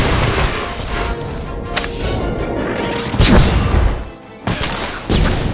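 Video game gunfire crackles in rapid bursts alongside loud, booming grenade explosions, dense and close with brief gaps between blasts and no talking.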